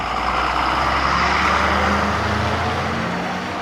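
A Biloli depot state transport bus on the Dharmabad–Sambhajinagar route pulls into Nanded bus stand, its engine a loud, steady, close rumble with road noise throughout and no talking.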